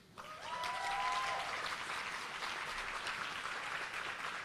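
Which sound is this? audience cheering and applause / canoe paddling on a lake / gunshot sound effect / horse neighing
audience cheering and applause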